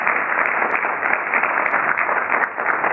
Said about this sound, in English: Please give them a warm round of applause for what they've done today.